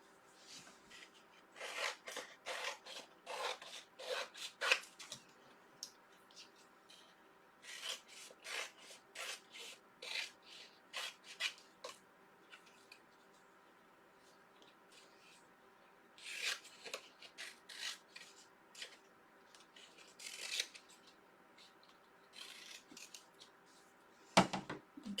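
Scissors snip through paper to cut out alphabet letters for a home decor craft, a run of close, crisp cutting strokes in bursts separated by quiet pauses.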